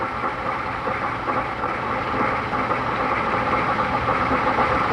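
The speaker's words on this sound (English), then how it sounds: "you can hear the boiling in the tank" Water boils inside a solar distillation tank, a continuous dense rumbling, churning roar that stays steady and close throughout, with no speech.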